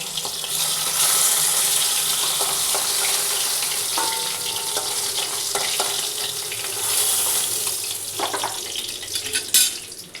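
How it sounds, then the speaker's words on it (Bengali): Pomfret fish frying in hot oil in a home kitchen, a steady dense sizzle running the whole time with occasional clinks and a sharper crackle near the end. "আগে মাছটা ভালো করে ভেজে নিই"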